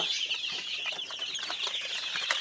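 A crowd of five-day-old farm chicks peeps constantly in a dense, shrill chorus, close and steady throughout.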